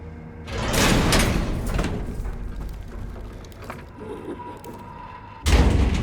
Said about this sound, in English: Suddenly, something slams the door from the outside before departing soon after.